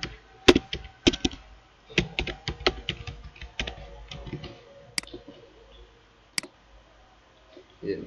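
Bursts of close, crisp key clicks on a computer keyboard while CSS is typed, uneven runs of taps with short pauses and a few sharper strokes, fading to near silence near the end.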